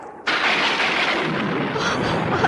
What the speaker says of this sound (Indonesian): nampaknya akan ada badai besar